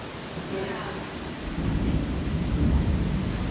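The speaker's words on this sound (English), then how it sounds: "I hear some thunder." Low rolling thunder rumbles in the distance at Disney's Animal Kingdom, swelling louder toward the end over a steady hiss of background noise.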